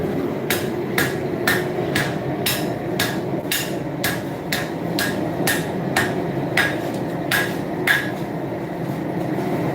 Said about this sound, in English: start forging it into a horseshoe knife. Let me hammer wrong-handed.